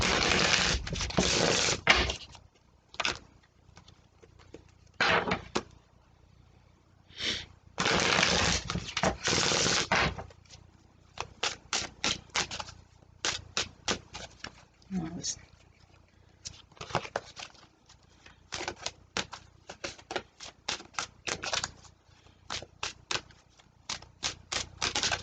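Tarot cards being shuffled and drawn during a reading, heard as bursts of riffling and quick papery flicks and taps, some long and dense, others short and scattered, with quiet pauses between.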